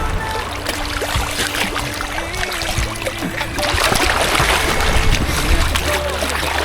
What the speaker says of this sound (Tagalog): Inaampas talaga tayo ng alon